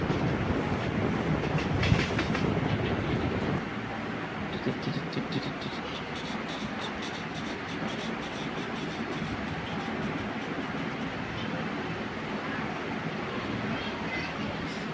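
The Punalur–Nagercoil passenger train runs on rails near Neyyattinkara, heard from on board: a continuous rumble with rhythmic wheel clatter, briefly louder at first and then steady.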